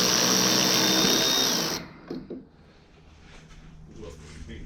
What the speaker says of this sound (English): a little wire brush that goes on a drill that you can go in that hole with